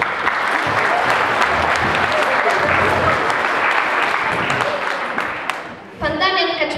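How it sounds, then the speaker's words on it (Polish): Audience applause at a village Christmas party, a dense steady clapping that fills the room for about six seconds before fading, with a voice briefly heard at the end. "Wielkie brawa!"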